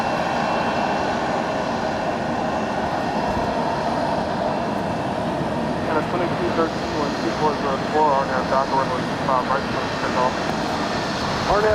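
A jet engine roar from an American Airlines plane at Los Angeles International Airport rumbles steadily throughout, with bursts of talk layered over the noise in the second half.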